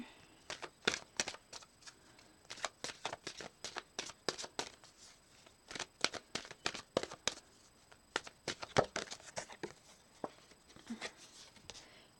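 Healing with the Fairies oracle cards are shuffled in quick, soft riffling bursts, a fast papery flutter repeating in clusters with short pauses, close and quiet.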